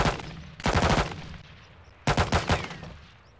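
Two loud bursts of rapid automatic gunfire in Call of Duty Modern Warfare II, each lasting about half a second, separated by a fading echoing tail.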